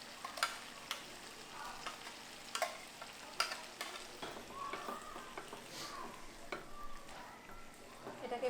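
Ground paste being stirred into a frying mushroom curry, with scraping spatula strokes and a low sizzle in the pan, soft and close with no talking.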